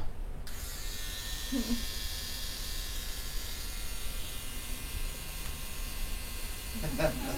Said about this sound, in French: Ça, c'est sa brosse à dents.